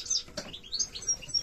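Goldfinches kept indoors in breeding condition give a quick run of thin, high chirps and twitters, fairly close and moderately loud, with a soft flutter of movement behind them.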